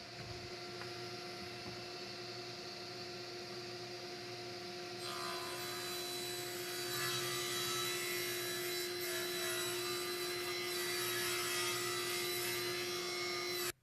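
A saw cuts wooden 2x4 boards while a dust extractor drones steadily underneath, with the saw's harsh, sustained cutting noise joining partway through and continuing alongside the extractor hum.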